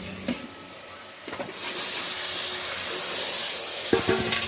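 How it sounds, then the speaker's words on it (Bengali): Desi chicken meat frying in a pan: a loud, steady sizzle swells after a couple of seconds of quieter stirring, with clanks of a spatula at the start and end. "এটা দেশি মুরগির মাংস তো, তাই এইভাবে ভাজা ভাজা করলাম"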